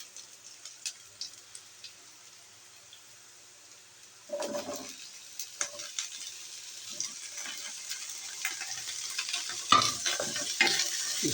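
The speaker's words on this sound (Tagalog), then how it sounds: "I-stir fry lang natin mga kakabs." Bitter gourd (ampalaya) and pork being stir-fried in a pan with onions, faint at first, then steady scraping stirs and a soft sizzle from about four seconds on, growing busier toward the end.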